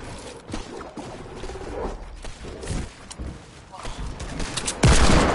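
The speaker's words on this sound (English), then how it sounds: "Oh, I'm getting shot!" Gunfire in a battle royale video game, with rapid bursts of shots hitting the player's character, loud and close, over game noise and a player's voice.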